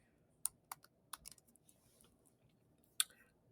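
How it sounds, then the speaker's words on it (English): A few sharp keyboard clicks in quick bursts, then a pause and one more keystroke, fairly close over a quiet background. "if you hear my keyboard,"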